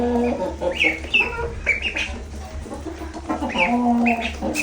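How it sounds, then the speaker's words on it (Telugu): Turkey hens cluck and chirp while feeding, a steady run of short, close calls from several birds over a low background hum. "ఈ టర్కీ కోళ్ళు ఒక్కటే అలాగే తింటున్నాయి మిగతా ఏం తినట్లే"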